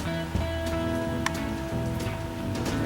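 Rain falls steadily at the end of a day, a dense patter on surfaces with a low droning hum underneath and a few sharper drips standing out.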